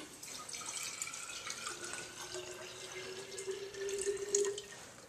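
Water pours steadily into a glass, a rising gurgling stream that brightens toward the end as the glass fills.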